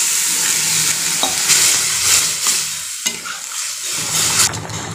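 Loud sizzling from a pan of curry made with taro (kachu), a rush of hissing and bubbling as water hits the hot pan, with scraping stir sounds throughout and no talking.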